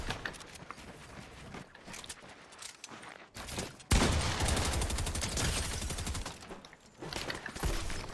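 Rapid bursts of Fortnite gunfire crackle continuously through the match, a dense fusillade that jumps louder midway and keeps rattling alongside game noise.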